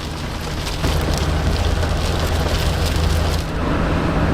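Steady rain drumming on a car as it drives along a wet, steaming road, a constant dense hiss over low road rumble that eases briefly near the end.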